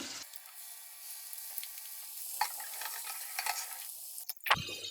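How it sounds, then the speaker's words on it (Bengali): Fish rubbed with salt and turmeric fries in oil in a frying pan with a continuous close sizzle and hiss, a few spatters and pan clanks breaking through, and one louder clatter near the end. "ফ্রাই প্যানে কিছুটা তেল দিয়ে দেবো মাছ ভাজি করার জন্য"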